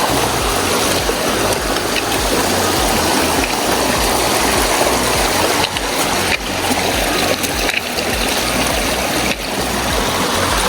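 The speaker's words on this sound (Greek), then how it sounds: "Αναγκάζεσαι να περάσεις μέσα από τα νερά γιατί το ριάκι τρέχει μέσα στο μονοπάτι." A loud, steady rush of a stream running across a mountain trail between Elati and Vytina in Arcadia, Greece, flowing and splashing nearby, filling the scene with constant broadband noise and no voices.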